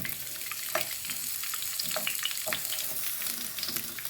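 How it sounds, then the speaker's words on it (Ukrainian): Apples frying with a steady sizzle in a pan left with fat from cooking liver, with a few soft clinks and stirring sounds over the crackle. "На цій же сковорідці я підсмажую яблучка."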